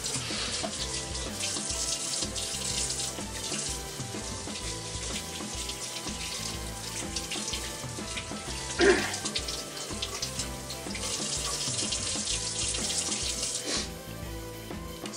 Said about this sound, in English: Wash my hands off before I touch my face or something.